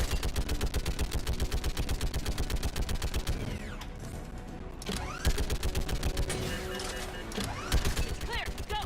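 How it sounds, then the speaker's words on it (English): Rapid automatic gunfire from a Mass Effect 3 firefight hammers in dense bursts, pausing briefly before sharp single shots and further volleys resume, loud and close amid game sound effects. "Stop shooting at me!"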